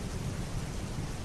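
Heavy rain on a rainy night with low thunder rumbling beneath it, a dense, steady hiss of falling water over a deep continuous roll, loud and unbroken, with no talking.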